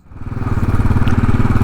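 A 2018 Royal Enfield Classic 500 street motorcycle with a kickstarter runs close by, its single-cylinder engine thumping in a steady, fast, loud pulsing beat that swells slightly as it settles.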